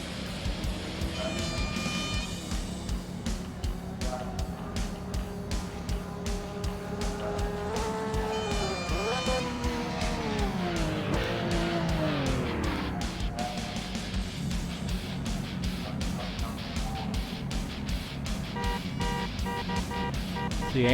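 Porsche GT3 race cars at Circuit Zandvoort in a sim racing game, engines droning steadily and loudly with rising and falling revs across the stretch, a continuous buzzing roar of several cars.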